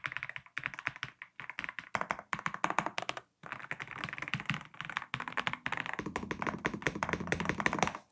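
Rapid clacky keystrokes on an MCHOSE K99 mechanical keyboard with factory-lubed switches, typed in quick bursts with brief pauses, close and crisp, no voices.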